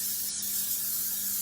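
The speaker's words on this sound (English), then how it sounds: "I'm spraying my pan." Cooking spray hissing onto a pan on a home stove for crepes, a steady close broadband hiss lasting the whole moment with no talk.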